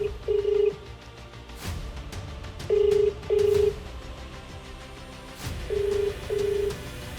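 An outgoing phone call rings back with paired beeping tones repeating in three cycles a few seconds apart. The tones are faint and sit over a quiet background with occasional soft clicks.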